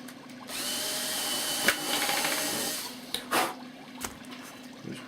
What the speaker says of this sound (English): Drill a hole in this